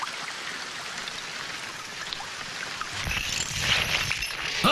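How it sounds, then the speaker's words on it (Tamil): Heavy rain pours down in a dense hiss, growing louder and rougher partway through with splashing and low rumbling as the downpour intensifies, with no voices over it. "நல்ல மழை பெய்யுதுல"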